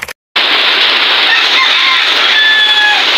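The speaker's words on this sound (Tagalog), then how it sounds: "Basa yung ating mga manok." Heavy rain hisses steadily and loudly over a chicken yard, with faint clucks and crowing from the chickens cutting through the downpour.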